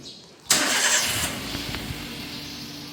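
A 2014 Daihatsu Xenia Type R Deluxe engine cranks and catches with a sudden loud start, then settles into a steady, close idle with a faint rattling hum.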